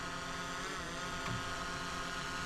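A drone hovers over a sailboat on open water between Arcadia and Onekama, Michigan, giving a steady, continuous engine-like hum with a broad, noisy texture that holds level throughout.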